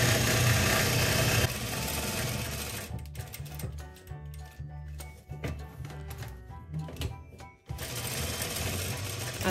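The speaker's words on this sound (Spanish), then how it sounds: "aguja abajo, y volteamos y seguimos cosiendo, siempre acomodando el borde de mi telita" Sewing machine stitching along the edge of fabric while sewing a sport collar, running in a steady, loud motor whir with short pauses and restarts.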